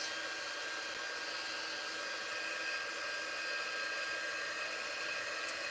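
Close, steady whoosh of a hair dryer drying a holiday craft project, its constant airy hum running unbroken without any voices.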